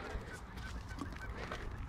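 Geese honk repeatedly in short nasal calls, fairly faint and distant, over a quiet outdoor background at a wetland.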